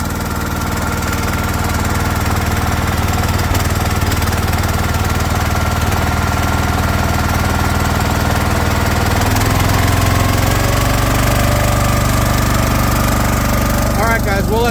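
A log splitter's small engine runs steadily at a loud, close idle, a constant rumbling drone that deepens slightly partway through, with splitting of beech wood ahead.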